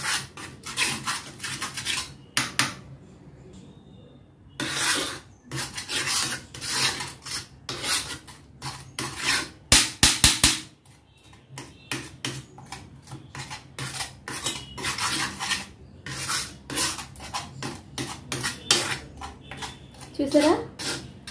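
Henna and indigo powder are mixed into a paste in a bowl, with repeated close scraping and rubbing strokes in irregular bursts, separated by short pauses.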